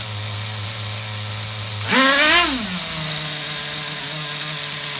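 A bench-mounted HPI RS4 nitro RC truck engine buzzes at a steady low idle, then revs up sharply in a brief rising-and-falling whine before settling back to a slightly raised, steady idle, close and loud with no talking.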